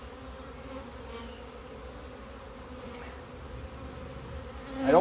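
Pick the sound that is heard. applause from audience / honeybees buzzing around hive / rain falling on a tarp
honeybees buzzing around hive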